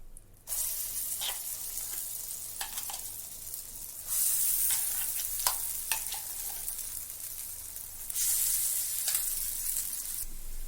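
Ground tur dal chutney hits a hot pan and is stirred in, bursting into a loud hiss that swells in waves, with sharp spatula scrapes and clicks over a constant close sizzle.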